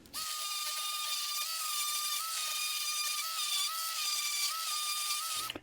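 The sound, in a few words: orbital sander sanding wood with 150 grit sandpaper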